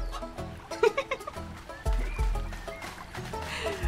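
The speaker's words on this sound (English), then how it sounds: "Ooh, chicken coop." Chickens clucking inside a video game chicken coop, with short, irregular clucks and squawks heard over low background game sounds.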